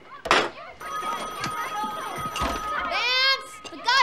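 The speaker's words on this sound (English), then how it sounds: "The goddamn phone's ringing!" A telephone rings in a scene from the film Pulp Fiction, its bell tone sustained and fairly loud under agitated shouting voices and other room noise.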